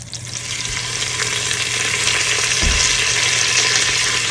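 Whole spices, black cardamom and peppercorns among them, fry in hot oil for Andhra-style country chicken biryani, giving a steady, loud sizzle throughout with a brief stir or clatter midway.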